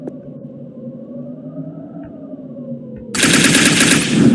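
A student-made computer game plays a steady synthetic drone, then bursts into loud rapid gunfire as the player shoots an enemy with the mouse, with no talking.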